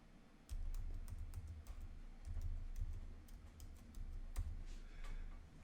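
Keys clatter on a computer keyboard as a password is typed, a steady run of close, crisp keystrokes in irregular bursts with no talking.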